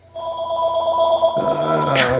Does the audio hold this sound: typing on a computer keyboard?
no